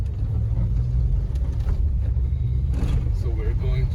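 A 1994 Jeep YJ drives in four-wheel drive, a steady low engine and road rumble filling the cabin throughout, with faint rattles on top.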